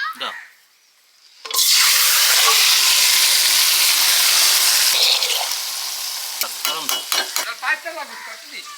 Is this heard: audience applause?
no